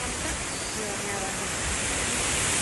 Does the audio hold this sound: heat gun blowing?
no